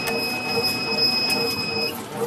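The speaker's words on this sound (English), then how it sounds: "The bread machine is working hard." Bread machine powered by pedalling, a steady mechanical whir with thin high whining tones, loud and continuous, with faint rhythmic pulses.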